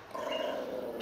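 A dog growls low and steadily at close range for about a second, a tense, continuous rumbling snarl with no barking and no talk over it.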